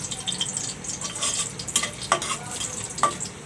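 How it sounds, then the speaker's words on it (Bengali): Cinnamon, cardamom and cloves fry in a pan for chicken korma, a soft continuous sizzle broken by a few scraping stirs and light clinks of a spoon against the pan, with no voices. "একটু ভেজে নেব, তাহলে ঘ্রাণটা ভালো আসবে।"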